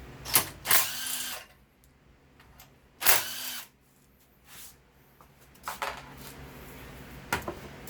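Ratchet wrench turning a 3/8 socket to loosen bolts on a log splitter with a Briggs and Stratton engine, heard as two close, loud bursts of rapid clicking, then fainter scattered clicks and handling noises in a quiet room.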